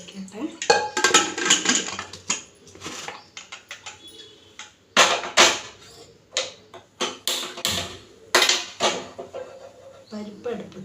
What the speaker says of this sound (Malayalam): അപ്പോൾ ഞാൻ പരിപ്പ് അടുത്ത് വയ്ക്കട്ടെ